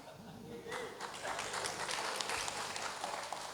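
An audience at a Hari Santri and Heroes' Day gathering at the Indonesian embassy in Brunei claps in a faint, scattered burst that swells after a short spoken moment and continues as a soft patter of many hands.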